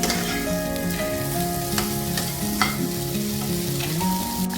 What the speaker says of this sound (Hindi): मसाले के साथ आलू को भी हम भून लेंगे